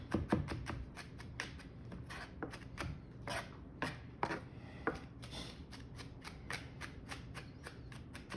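A knife chops garlic on a cutting board in a steady run of quick, crisp taps and scrapes, close and fairly quiet, with no talking.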